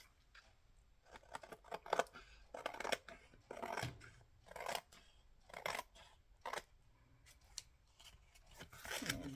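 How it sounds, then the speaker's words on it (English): Scissors snip through leftover paper while a vintage Christmas journal is trimmed, a run of crisp, close cuts in irregular bursts with short pauses between, no talking. "Trim this up a little bit."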